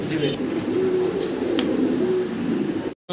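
Lahori pigeons coo in a low, steady murmur close by, with soft throaty calls repeating under constant background noise.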